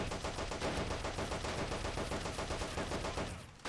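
Sustained machine gun fire in the World War II strategy game Men of War: Assault Squad 2, set in the Pacific invasion of Borneo: loud, rapid, continuous bursts of automatic shots rattling nonstop before cutting off at the end.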